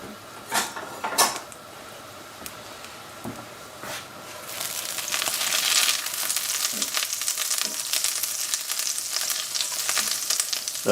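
Herb compound butter melts in a hot pan, a few clinks and taps of a utensil first, then a steady, close, bright sizzle that swells and keeps crackling to the end.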